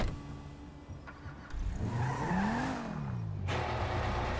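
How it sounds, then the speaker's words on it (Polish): A customized car in GTA V starts up and pulls away, the engine revving with a rising then falling whine and a brief tire squeal, close and fairly loud. "wsiądę sobie do swojego samochodu, tego, który sobie odpimpowałem"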